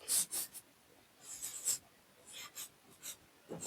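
Short scratchy strokes of writing on a board while a Class 10 maths problem on Euclid's division algorithm is worked out, coming in faint, separate bursts with brief pauses between them and no one speaking.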